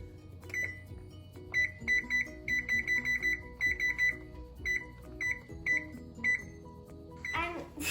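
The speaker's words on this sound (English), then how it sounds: "I'm gonna set the timer for 15 minutes." Kitchen timer being set for 15 minutes: a rapid series of short electronic beeps in bursts of button presses, close and clear, with a voice briefly heard near the end.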